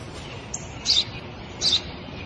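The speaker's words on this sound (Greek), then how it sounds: "Ένα σπουργίτη." Two brief, bright bird chirps, about a second apart, rise over a steady background hiss; small and close, like a sparrow.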